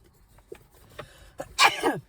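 A single sharp sneeze bursts out near the end, loud and close, preceded by a few faint breathy sounds and quiet background.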